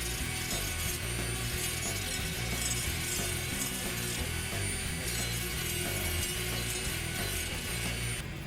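EVA foam being sanded into a blade edge for a hacksaw prop, a continuous gritty rasping with a rapid, regular mechanical rhythm throughout.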